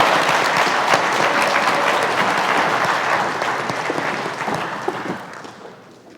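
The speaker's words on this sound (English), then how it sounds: "Nice round of applause" A crowd applauds loudly at a startup pitch night, sustained dense clapping that gradually thins and fades toward the end.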